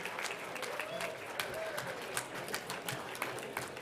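Sustained audience applause at a live benefit program, dense steady clapping from a crowd throughout with a few sharper individual claps standing out.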